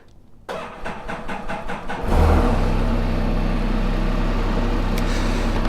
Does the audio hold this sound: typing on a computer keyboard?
no